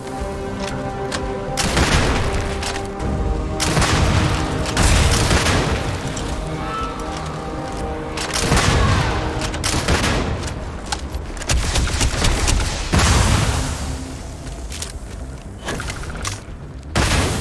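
Continuous loud combat from the video game Starfield, with booming explosions and rapid gunfire layered over a steady tonal soundtrack, rising in several heavy surges throughout.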